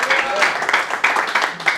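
A church congregation applauding and cheering for God, a short burst of loud, steady clapping from a crowd with voices mixed in.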